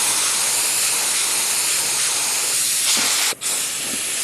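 A spray gun lays down 2K Rust-Oleum paint with a steady, close, loud hiss that runs almost unbroken, dipping briefly for a moment near the end before resuming.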